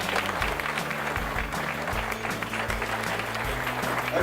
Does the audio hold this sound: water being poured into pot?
no